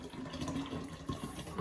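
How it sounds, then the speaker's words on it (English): Bottled water is poured into a drinking bottle, a soft continuous gurgling trickle that stays fairly faint and close throughout. "I'll grab the bottle of water and I'll pour it in my bottle here."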